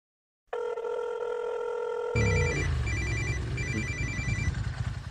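A telephone rings with a steady, loud electronic trill for about two seconds, then a heavy, noisy burst of film soundtrack takes over while faint ringing tones linger above it. No one speaks.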